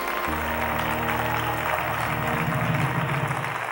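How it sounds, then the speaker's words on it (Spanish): A church congregation claps together in a sustained round of applause, with a low musical drone underneath. "Dele un aplauso al Señor."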